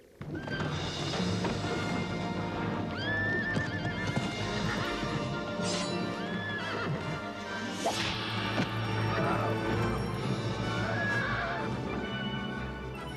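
Horse neighing as a film sound effect for a wild horse in a fantasy movie, with repeated loud whinnies over clip-clopping hooves and whip cracks, dense and continuous with a crash near the middle.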